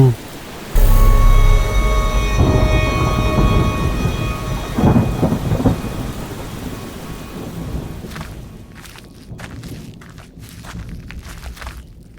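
A loud crack of thunder opens into a long rumbling roll over steady rain, fading to scattered patter and a few knocks near the end.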